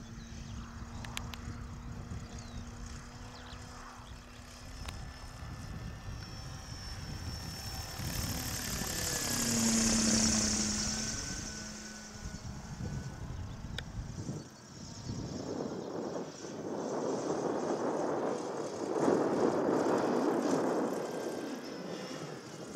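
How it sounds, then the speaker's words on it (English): A Cierva C.30A autogiro, its engine and rotor heard as a sustained aircraft drone, passes with a rising and falling Doppler sweep and swells in loudness over about twenty seconds at moderate distance. No speech is heard. "That was a good takeoff, Al."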